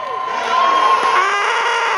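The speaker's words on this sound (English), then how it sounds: "Applause for you, Miss." Crowd cheering and whooping for a team member being presented, loud and sustained over two seconds, with shrill voices on top and steady noise underneath.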